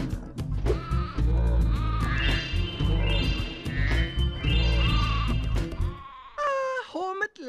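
Goats bleat in the video game Spyro: Year of the Dragon, several wavering cries layered over busy game music and character speech, with a final run of bleats alone at the end.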